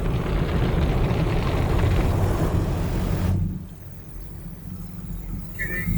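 High-pressure spray at Jerry's Carwash in Cranberry Township, PA: a loud, steady rushing hiss fills the first three seconds, then cuts to a quieter, lower rumble that lingers to the end.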